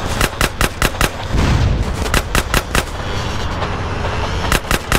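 Rapid bursts of gunfire in GTA San Andreas, loud sharp shots in quick repeated volleys with a short gap of rumbling noise in the middle, no talking.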